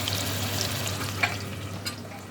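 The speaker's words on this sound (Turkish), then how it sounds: "Şimdi soğanlarımız kızarıyor." Onions sizzling in a frying pan, a soft continuous crackle with a couple of brief clicks of stirring, fairly close and steady, no talking.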